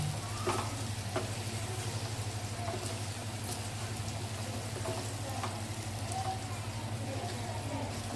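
Ground masala sizzling in a pan as water is poured in while cooking an elephant foot yam vegetable dish, a soft steady fizz with faint stirring clicks and a low continuous hum underneath.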